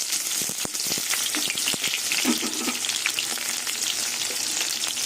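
Onion and nigella seeds hit hot oil in a pan, a loud close crackling sizzle with sharp spitting pops and a few stirring knocks, continuous and without talk.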